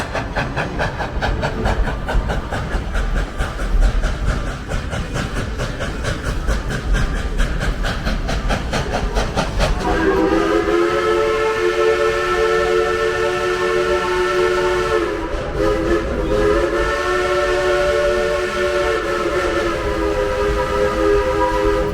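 A Dollywood train rumbles steadily along, then a loud, sustained steam-style whistle sounds from about halfway through, blowing in long harmonic blasts.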